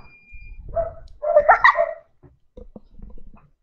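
A dog barks in short bursts close by, with a louder cluster of barks midway and softer yips and whimpers after, during a Fortnite stream.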